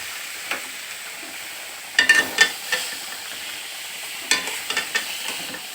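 Mixed leafy greens frying in a pan, a steady soft sizzle with a few short bursts of stirring scrapes and spatters, close and fairly quiet, with no talk.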